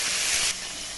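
Stuffed okra (vendakkai) sautéing in a little oil in a pan, a loud hissing sizzle that drops sharply halfway and then continues as a steadier, softer fry with no talking.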